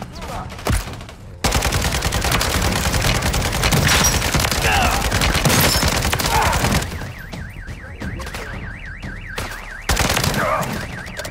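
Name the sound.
gunfire from Call of Duty video game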